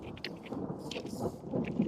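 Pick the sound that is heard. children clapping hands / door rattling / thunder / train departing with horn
thunder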